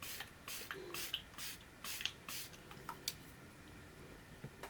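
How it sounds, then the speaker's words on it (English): Rare Beauty setting spray misted onto a face, heard as a series of short, soft hissing spritzes in quick bursts, fairly close and quiet with no talking. "I'm gonna use the Rare Beauty setting spray."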